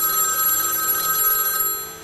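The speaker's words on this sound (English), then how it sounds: "Amanda Chadburn receives the first phone call." A telephone bell rings repeatedly for about two seconds in a bright, steady metallic trill with no voices over it.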